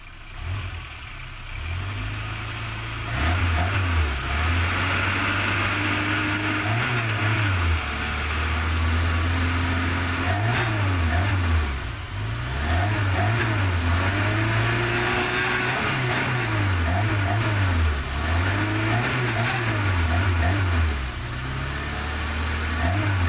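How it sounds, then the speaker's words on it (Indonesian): An old car engine with a carburetor and contact-point ignition runs steadily for over twenty seconds, idling with a deep rumble and rising and falling in repeated throttle revs, close and loud with no talking. "ini mesin jadul pakai karbu platina seperti yang anda lihat"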